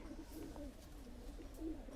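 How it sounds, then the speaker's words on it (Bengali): Flying pigeons kept for sale, including Saki Teddy birds, coo softly in low, warbling phrases, faint and steady with no voices. "এই হচ্ছে কবুতর"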